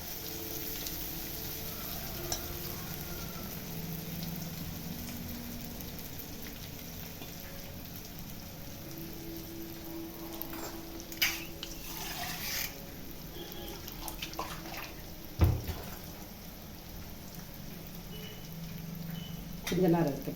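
Anchovies fry in hot oil, a faint steady sizzle and crackle throughout with occasional pops and clinks, under a person talking.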